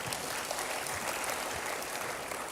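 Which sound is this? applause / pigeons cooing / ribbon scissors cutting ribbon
applause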